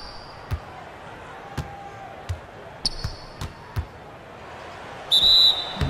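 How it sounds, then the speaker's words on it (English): A referee's whistle in the NBA 2K17 basketball video game sounds as two short, shrill blasts over a steady thud of a bouncing ball. "So the whistle blows on the shot"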